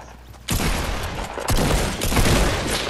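Dense Fortnite gunfire erupts after a brief lull, a loud, sustained volley of rapid shots and booms that roars close up for a few seconds.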